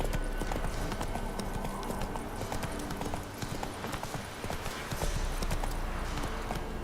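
Hooves of Geralt's horse Roach galloping in The Witcher 3, a fast steady clip-clop rhythm close up over continuous game ambience, with a voice speaking briefly.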